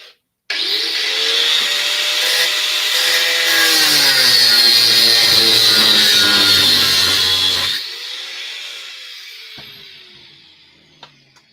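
A small handheld grinder starts abruptly, spins up with a rising whine and runs loud and steady for about seven seconds, then cuts off and winds down, with a faint knock afterward.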